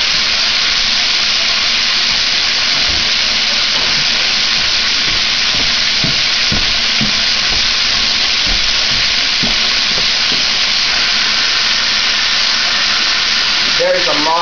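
Tap water runs steadily into a soup pot, a continuous loud hiss throughout with faint knocks and clatter underneath, stopping near the end.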